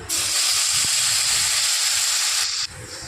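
Ground masala paste from the mixie hits hot oil for a ridge gourd curry, a loud, close, steady hiss of sizzling that holds evenly, then drops sharply near the end.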